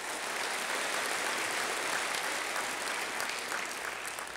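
A large crowd applauds at a city State of the City address, a thick, continuous roar of clapping that holds at a steady level from start to finish, with no voices above it.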